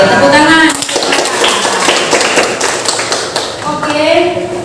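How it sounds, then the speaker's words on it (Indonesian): A class of students clapping their hands in a lesson, a short burst of scattered claps with voices talking over it near the start and end. "Oke, tepuk tangan."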